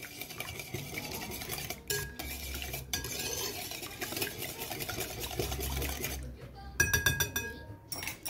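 Dough ingredients with a pinch of salt and vanilla are mixed in a bowl, giving soft stirring swishes and light clinks of a utensil against the dish, with a voice present at moments.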